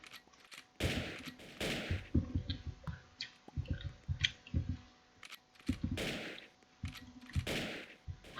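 Bursts of gunfire in a shooting video game, with several loud rapid volleys separated by quieter stretches of game clicks and smaller shots.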